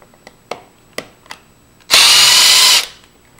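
A power drill loudly backs a screw out of a door latch in one steady burst of nearly a second, preceded by a few light clicks and taps.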